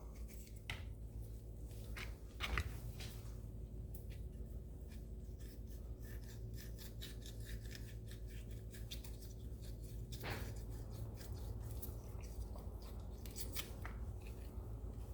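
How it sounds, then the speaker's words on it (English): A knife scrapes and cuts around coconut flesh inside the shell in a long run of close, quiet rasping and scratching strokes, with a few sharper knocks. "you can just gently take your knife and cut around"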